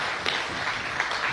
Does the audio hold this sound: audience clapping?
yes